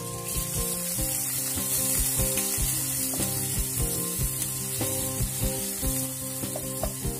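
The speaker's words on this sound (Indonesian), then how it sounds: "Kemudian kita tumis bawang hingga harum." Shallots sizzle and fry steadily in hot oil in a pan for Indonesian banana blossom vegetable stew, with a continuous crackle and occasional metallic clinks of a utensil stirring against the pan, close up and without talk.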